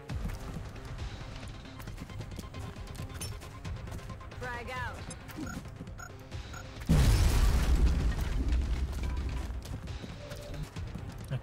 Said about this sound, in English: let's try to do some grenade throwing here